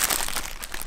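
Colored tissue paper for gift bags crinkles steadily and close up for under a second, a dense rustling with no voices.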